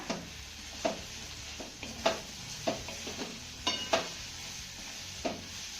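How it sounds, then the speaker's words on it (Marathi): A spoon stirs bottle gourd cooking in a pan, knocking against the metal in a loose series of taps and scrapes over a soft steady sizzle, close and moderately quiet. "त्यानंतर तळापासून एकदा याला हलवून घेऊया"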